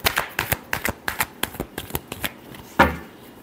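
Tarot cards being shuffled by hand, a quick run of crisp riffling flicks in an uneven rhythm, close and clear, ending with one louder slap as the deck is squared.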